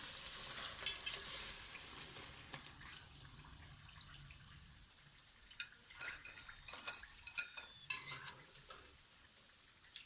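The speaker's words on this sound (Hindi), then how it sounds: "जितना भी हमारे पास आलू हैं, जितना भी सामान है, सबको हम बहुत ही अच्छे तरीके से फ्राई कर लेंगे" Faint, soft sizzling of potato slices frying in a pan, with small irregular crackles and pops scattered through the quiet background, no talk.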